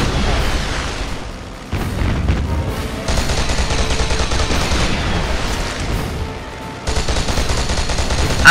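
Bursts of enemy gunfire and explosions in a video game come in rapid volleys, loud booms and rattling shots separated by brief lulls.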